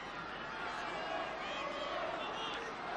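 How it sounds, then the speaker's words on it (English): The Fulham crowd at Craven Cottage football ground during a 1972 match makes a steady, dense roar of massed voices that swells gently throughout, with someone talking over it. "you can hear the Craven Cottage crowd beginning to get behind the Fulham team"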